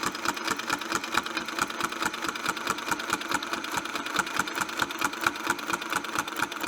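A Westalee quilting sewing machine runs its needle in a fast, even chatter of rapid stitches, steady and close throughout with no pauses.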